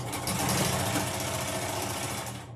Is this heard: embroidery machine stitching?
yes